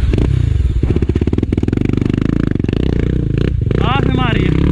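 Motorcycle engine revving hard as the bike climbs a steep hill trail, loud and close with a steady throbbing drone and some clatter, while people shout and talk over it.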